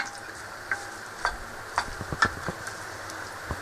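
Chopped onions sizzle in a pan under a steady frying hiss, with a spoon stirring and tapping against the pan in scattered soft clicks.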